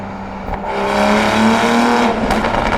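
Toyota Supra engine revving up to about 4500 rpm, a loud, near, steady rising engine note that swells and holds, with no talking.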